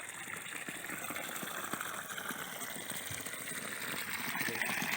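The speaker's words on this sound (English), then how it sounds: "Yep, coming out of all 3, and that's a pretty good flow of water there." Water gushing steadily out of a repaired irrigation hose at a breeding tank, a continuous rushing flow heard up close with faint voices in the background.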